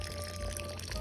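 Filtered water, 150 ml, pours onto 1.5 kg of sugar to start a gooseberry syrup, a steady close splashing stream running evenly for about a second.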